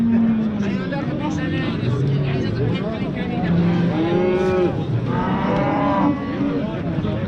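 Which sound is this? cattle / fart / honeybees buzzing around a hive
cattle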